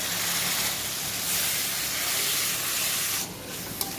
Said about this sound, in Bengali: মশলাটা খুব ভালো করে কষিয়ে নেবো